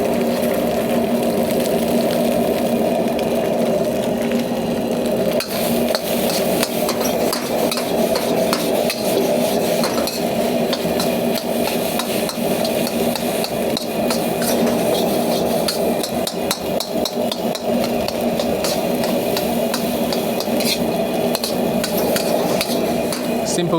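Rice and eggs stir-fried in a wok for Hong Kong cha chaan teng pork chop fried rice: steady loud sizzle with rapid metal scraping and clanking of the spatula over a roaring burner throughout.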